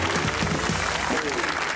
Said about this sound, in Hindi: कायद के लिए तालियां